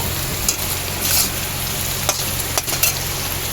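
Chopped onions with whole cumin fry in oil in a pan, giving a steady broadband sizzle throughout with a few brief stirring clicks and scrapes; no voices.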